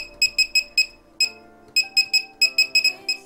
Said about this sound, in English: the only type of feedback that you're provided is an annoying beep sound